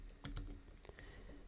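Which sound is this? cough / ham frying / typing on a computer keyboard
typing on a computer keyboard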